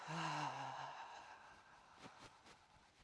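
A deep breath is drawn in with a voiced, sighing tone, then let out in a long exhale, close and soft during a guided feminine embodiment practice.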